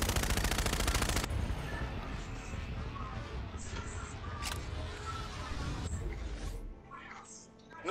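Rapid automatic gunfire rattles loudly in Call of Duty: Infinite Warfare, a fast dense burst at the start that gives way to scattered shots and blasts under game noise, with voices talking over it.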